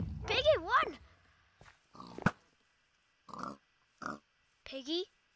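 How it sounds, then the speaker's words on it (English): A pig in a Minecraft Farm Hunt game oinks in several short, separated grunting bursts, fairly close and clear, with brief silences between calls. "One piggy! Piggy,"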